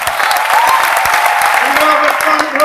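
Loud, dense applause from an audience at a direct-selling business talk, steady throughout with scattered sharp claps and a voice over it.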